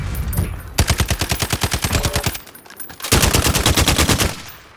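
Two long, very rapid bursts of automatic fire from the RAAL MG sniper LMG in Call of Duty Modern Warfare, each a fast even stream of sharp shots, separated by a short pause.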